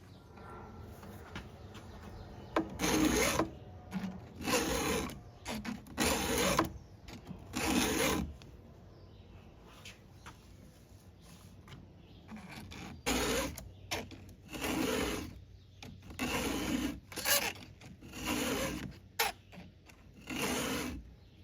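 A round file in a STIHL 2-in-1 sharpener rasps across a chainsaw chain's cutters, sounding as repeated bursts of scraping strokes in short groups separated by pauses.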